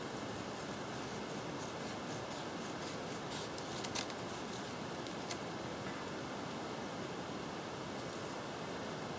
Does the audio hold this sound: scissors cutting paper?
yes